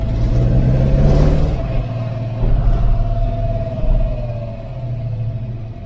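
A Ford Maverick V8 with a faulty cylinder head runs rough and misfires, a loud, close, uneven idle rumble with slight swells in revs and no talking.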